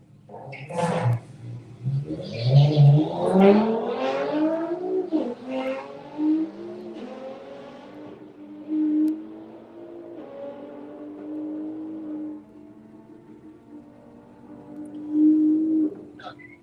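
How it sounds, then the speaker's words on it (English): A Nissan GT-R race car pulls away from a drag strip start line, its engine rising through a long, loud wail before easing to a steadier drone and a final rev. "Another very quick looking GTR on the start line."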